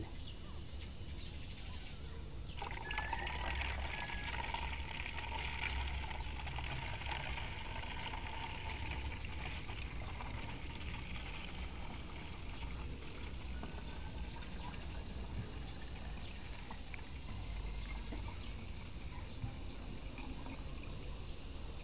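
Liquid homemade kakawati pesticide poured into a plastic bottle, a soft continuous trickling and splashing stream heard close but faint, with faint bird chirps in the background.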